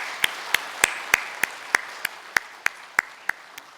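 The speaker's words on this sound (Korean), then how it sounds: "영광의 박수를 올려드립니다." A Christmas church congregation claps in unison, about a dozen sharp, evenly spaced beats in a steady rhythm, each one crisp and loud with near silence between.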